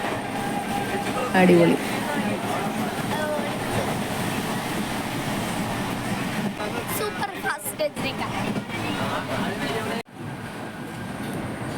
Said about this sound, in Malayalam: ഇപ്പോൾ നമ്മൾ കൊങ്കൺ റെയിൽവേയുടെ ഒരു തുരങ്കത്തിലൂടെ കടന്നു പോവുകയാണ്